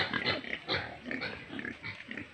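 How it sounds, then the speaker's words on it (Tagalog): A large pig grunts and snorts repeatedly up close on a farm, a run of low rough grunts in an uneven rhythm, fairly quiet overall with no talking. "Ito yung baboy"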